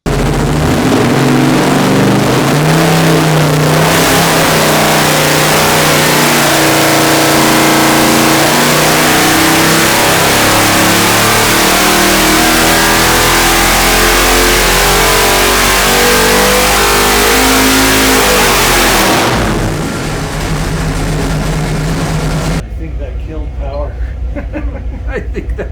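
A rebuilt 454 V8 roars under load on an engine dyno, fitted with an air cleaner on a drop base, pulling hard and steadily for about twenty seconds before the revs fall off and it settles into a rough idle.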